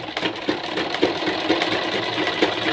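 Sewing machine stitching a Punjabi dress, a close, steady mechanical whir with rhythmic needle clatter pulsing about twice a second, with no voices.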